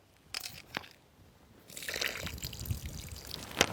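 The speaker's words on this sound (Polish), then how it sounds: "Zlejemy tylko wody trochę." Water poured off a pot of fish broth for a fish soup, starting with a few clinks and taps, then a steady trickling pour and splashing that continues to the end.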